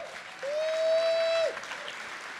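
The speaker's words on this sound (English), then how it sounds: "so I want to give them a round of applause" A conference audience at LevelUp Day 2022 applauds team members, with a soft bed of clapping and one loud, sustained whistle piercing through for about a second in the middle.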